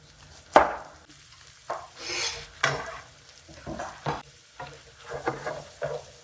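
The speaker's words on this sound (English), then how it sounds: "I'm going to saute these in a little bit of butter and olive oil" Onions sauté in butter and olive oil with a soft sizzle under repeated scraping and stirring strokes of a spatula against the pan, close by and uneven in rhythm, with no talking.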